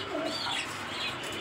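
A Sirazi Lahori pigeon gives a brief, soft, low coo nearby, heard on its own.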